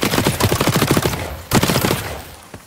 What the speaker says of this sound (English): He shot me from underneath, okay?